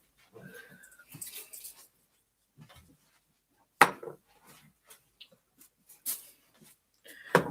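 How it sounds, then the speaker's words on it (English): A dog whining to be let into a room, heard as a few short, faint whimpers and soft scratchy sounds spread across quiet gaps, fairly close indoors. "It's the dog. She's whining."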